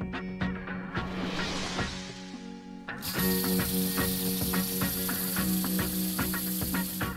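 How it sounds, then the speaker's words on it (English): A cartoon spray nozzle used to clean an injury hisses in a few bursts, first a softer spritz and then a longer, louder steady hiss, against a background of humming tones. "Let's clean the injury with the spray."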